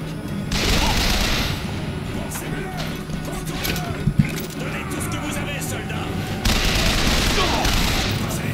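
Shotgun fire in the BioShock Infinite game: sharp bangs and crashes ring through dense game combat noise, with one distinct pair of loud shots midway, and a voice talks over the action.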